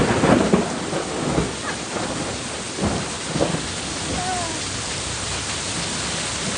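An intense Texas thunderstorm during flooding: heavy rain hisses steadily throughout while several close, booming thunder rumbles roll in near the start and again midway, with no voices.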